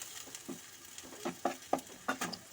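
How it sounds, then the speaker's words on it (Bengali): Ginger-garlic paste fries in a pan for a bhola fish curry, soft sizzling under a run of quick, close spatula scrapes and clinks, fairly quiet overall. "আদা রসুনের কাঁচা গন্ধটা চলে যাওয়া পর্যন্ত একটু ভালো করে কষাতে হবে।"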